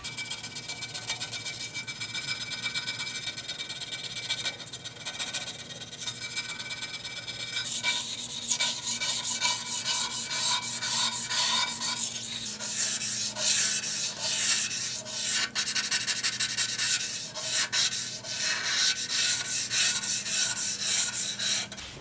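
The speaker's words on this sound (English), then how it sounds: "sometimes it comes in handy to have a scraper and just kind of scrape off anything that might be sticking up." Continuous rasping and scraping as a hand scraper shaves high spots off a cast iron table top, softer at first and then louder and more vigorous, with rapid repeated strokes.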